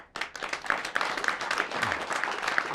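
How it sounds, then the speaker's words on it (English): Audience applause rises quickly and keeps going as dense, steady clapping from a studio crowd at a live talk show. "Some claps there."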